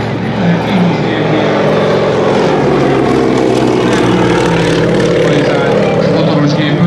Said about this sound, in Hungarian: ez volt a Smelák típusú mezőgazdasági repülőgép